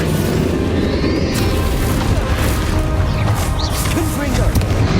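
Confringo and Bombarda spell explosions in the Hogwarts Legacy video game, a loud, dense wash of blasts and crashing impacts running nonstop with battle noise.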